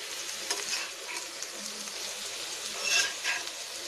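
A street-style egg fries in a pan with a soft, steady sizzle and light crackle, fairly quiet and continuous, with a couple of brighter spits near the end.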